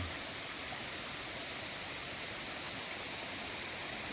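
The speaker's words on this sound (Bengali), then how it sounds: "এই ঝর্ণায় ভর্তি তো" A steady, even rush of falling water from a waterfall in the hills around Sittong, heard as a constant broadband roar at moderate distance with no talk over it.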